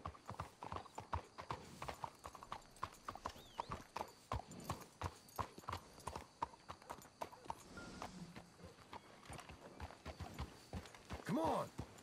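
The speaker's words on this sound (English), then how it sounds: "Let's hitch your horses up ahead." Horse hooves clip-clopping in the video game Red Dead Redemption 2, a steady rhythmic run of quiet hoofbeats with an occasional whinny near the end and voices talking over them.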